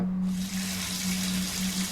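A shower runs steadily in the Last Guest video game, a continuous close hiss of water spray with a faint steady hum underneath, with no voices.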